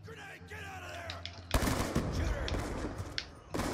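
Shotgun blasts ring out in the Call of Duty Black Ops II multiplayer match, a sharp loud burst followed by a few more cracks, after someone talks over game music.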